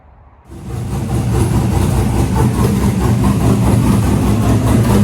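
A Camaro drag car's engine starts up and settles into a loud, steady, rumbling idle while warming up. The deep, continuous drone sits close and has no talk over it.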